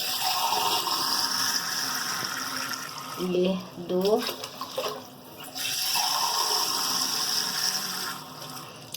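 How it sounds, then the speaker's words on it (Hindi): Water poured from a glass into a pot of rice on a stove: a steady splashing pour, a pause filled with a voice, then a second long pour, close and clear. "और ये हम अब 3 गिलास पानी हम डाल देंगे"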